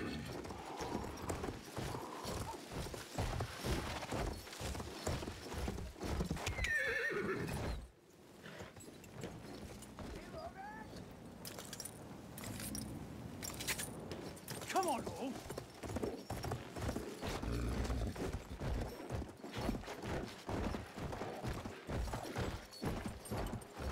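A horse gallops in the video game Battlefield 1, with rapid rhythmic hoofbeats, a whinny, a brief pause and renewed galloping, and a voice speaking at moments.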